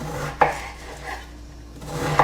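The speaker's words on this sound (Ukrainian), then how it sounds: "буряк я нарізаю такими" A couple of sharp knife cuts through beetroot against a board, one crisp chop early and another at the end, with quiet scraping between.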